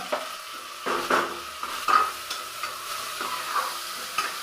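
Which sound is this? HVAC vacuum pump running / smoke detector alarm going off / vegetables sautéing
vegetables sautéing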